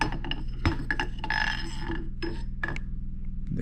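Metal parts clink and knock as a gear is lifted out of a Tremec TR6060 transmission from a Corvette during disassembly, with sharp intermittent taps and a low mechanical rattle throughout, close and fairly loud.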